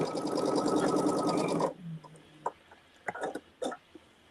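A sewing machine runs in a fast, loud, continuous burst stitching quilt blocks, then stops abruptly, leaving quiet handling clicks and taps as the fabric is adjusted.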